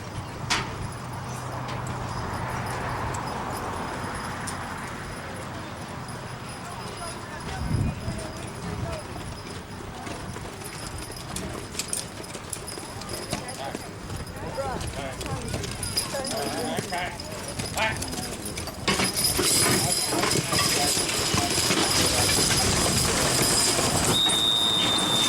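Heavy draft horses at a horse pulling contest clop their hooves over a long stretch, with an announcer talking over a busy outdoor crowd and a louder burst near the end.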